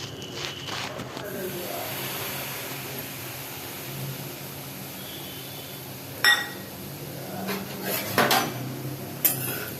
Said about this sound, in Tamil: இப்போ நம்ம 1 கப் ரவையை போட்டு நல்லா வறுக்க போகிறோம்.